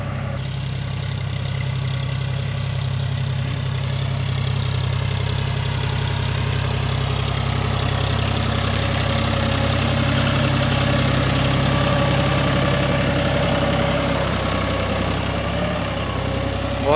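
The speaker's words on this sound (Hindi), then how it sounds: "बहुत ही बढ़िया ग्रिपिंग के साथ चल रहा है दोस्तों ट्रैक्टर" A John Deere 5045 4WD tractor engine runs with a steady, loud, close diesel drone while pulling a cultivator through wet farmland, holding an even rumble throughout.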